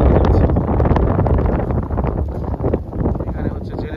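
Storm wind and rain lash a Padma river bank where fishing boats are moored, making a loud continuous roar with gusty buffeting and a voice partly heard beneath it.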